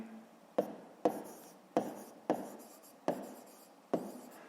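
A pen writing on paper while solving a fifth-grade maths exercise, six distinct scratchy strokes in an irregular rhythm, close and fairly quiet, with no talking.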